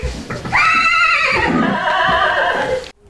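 A grey dappled Orlov trotter from a stud farm in the Arkhangelsk region lets out one loud, close whinny that rises and wavers for about two seconds before cutting off.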